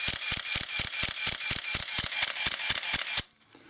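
Nikon F3 camera with an MD-4 motor drive fires continuously, giving about sixteen sharp, evenly spaced shutter-and-advance clicks at roughly five per second, close up and loud. The clicks stop abruptly, leaving near silence.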